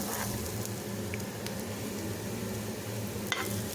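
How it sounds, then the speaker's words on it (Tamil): Beetroot sizzles steadily in hot oil for a beetroot poriyal, a continuous close frying crackle with faint stirring touches and no talk. "இந்த மாதிரி ரெண்டு நிமிஷம் ஆயிலில் ஃப்ரை ஆகி வரணும்"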